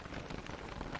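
Steady rain falls in the video game Don't Starve, a dense and even hiss of drops with no breaks for about a second.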